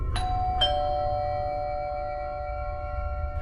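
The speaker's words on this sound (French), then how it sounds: "la sonnette retentit une nouvelle fois" A two-tone doorbell chime rings once, its ding-dong notes sustaining and slowly fading out over a faint low hum.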